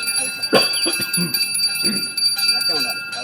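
A small ritual bell rings continuously with bright sustained tones while a man chants Sanskrit mantras over it, his voice clear and close, at a Hindu religious ceremony.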